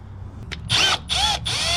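Power drill driving self-tapping screws into the underside frame of a sedan, with three loud whirring bursts, the last two long and near, separated by short pauses over low background noise.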